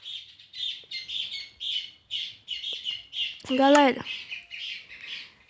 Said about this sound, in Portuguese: me desculpe aí, viu, por esse barulho aí de passarinho